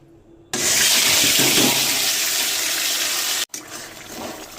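A ground paste of cashews and seeds drops into hot oil and bursts into a loud, hissing sizzle that holds steady for about three seconds, then breaks off and continues as quieter frying.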